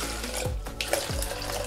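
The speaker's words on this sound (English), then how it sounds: "200 ml of water, it's a filtered water." Filtered water, about 200 ml, poured into a protein shaker: a close, steady splashing stream with gurgling swells, lasting under two seconds with no talking.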